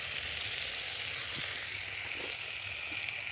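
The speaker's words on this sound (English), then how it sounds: "We have to fry carrots and onions for some" Carrots and onions fry in a pot over a village cooking fire, giving a dense, steady hiss of sizzling oil throughout, with a few faint knocks and no speech.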